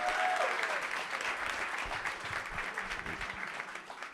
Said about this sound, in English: Y'all clap for that.